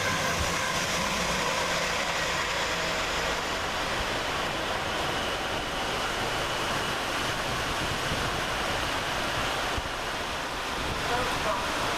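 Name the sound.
Class 222 train 222010 passing Luton railway station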